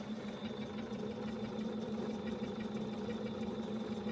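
A sewing machine fitted with a special foot runs steadily, stitching fabric with a continuous close mechanical hum and a fast even whir, with no pauses or voices.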